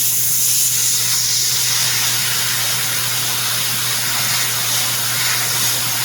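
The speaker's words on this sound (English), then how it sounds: "The solvent paint is always going to spray smoother than an acrylic or water-based." An airbrush sprays solvent paint onto a 1/4-scale Old Man He-Man figure as a work in progress, giving a loud, continuous close-up hiss over a low steady hum, with no break for the whole stretch.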